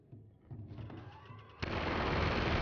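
Gunfire in the video game Uncharted 2, a dense, loud burst of shots and blasts that erupts suddenly and continues steadily after scattered quieter shots, with no talk over it.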